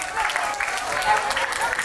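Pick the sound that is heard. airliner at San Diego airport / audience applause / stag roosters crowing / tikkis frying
audience applause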